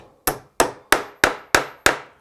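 Six sharp, evenly spaced taps drive wooden dowels into tapered holes while a mini raised panel is being assembled, each hit close and crisp with a short ringing decay and no talk.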